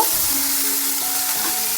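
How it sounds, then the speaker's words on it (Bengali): About a spoonful of black mustard seeds fry in hot oil, giving a loud, steady close sizzle with faint crackling as they begin to pop. "এক চামচ পরিমাণ কালো সর্ষে ওই দু তিন সেকেন্ড মতো কিন্তু ভাজা হয়ে গেছে এবার ফুটতে শুরু করছে"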